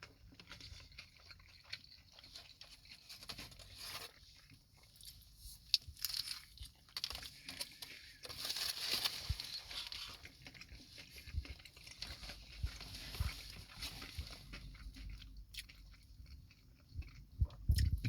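Someone chews a chicken sandwich with mayo, tomato and lettuce. The soft crunching bites and mouth sounds are quiet and close, with no talk.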